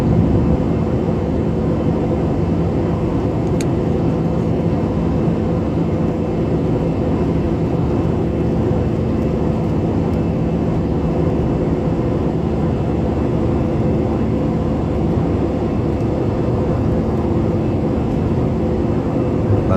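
A steady, unbroken engine drone fills an airplane cabin in flight on the Makassar to Sorong route, loud and even throughout with no voices.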